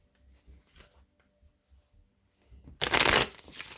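Gilded Tarot cards are handled with soft taps and slides, then shuffled in a sharp, loud riffling burst near the end, close and without speech.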